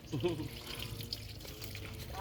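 Water running from a household faucet, a steady faint trickle and splash under nearby voices talking.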